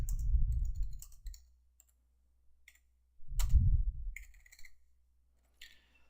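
A computer keyboard clacks in short bursts of quick keystrokes as a network router command is typed, separated by near silence, with a brief faint sigh between.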